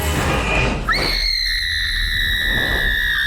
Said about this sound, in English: if you don't believe me about Isabel, here's a montage of Disventure Camp's best screams.